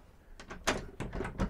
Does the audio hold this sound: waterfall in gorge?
no